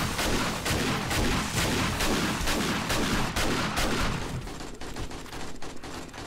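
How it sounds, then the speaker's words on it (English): Rapid, loud shotgun blasts in the survival horror game 7 Days to Die, Darkness Falls mod, during a zombie horde night, firing in a dense continuous barrage that thins slightly near the end. "Yeah, shotgun's still working."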